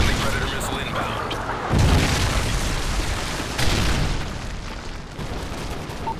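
A Predator missile blast in Call of Duty: Modern Warfare 3 multiplayer: a heavy boom hits, then a second rumbling burst follows, both over constant game noise and in-game voice callouts.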